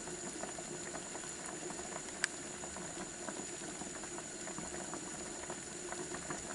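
Soft, steady bubbling of taimen-head fish soup boiling in a pot, with tiny pops and one faint click, no talking.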